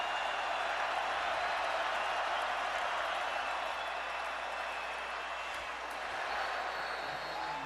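Stadium crowd at a night college football game, Virginia Tech versus Miami, keeps up a dense, steady roar of cheering and clapping throughout, with no break and no clear voices rising above it.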